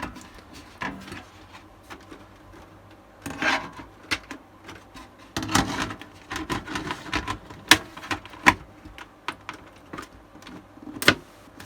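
A back side panel of a budget gaming PC case is slid and fitted into place, with scattered scraping, rubbing and sharp plastic-and-metal clicks, close up with no talking.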